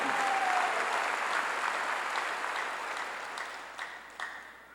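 Congregation applause fills a church during a sermon, a dense steady wash of clapping that slowly fades, with a few sharper claps standing out near the end.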